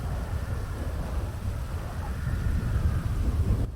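Heavy rain pours steadily during a storm with deep thunder rumbling throughout, a loud, dense wash of noise that swells slightly toward the end.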